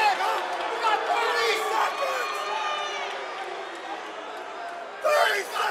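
A crowd at a Front Street Fights bout lets out a loud, restless roar of disapproval that swells, fades and surges again, with a commentator talking over it.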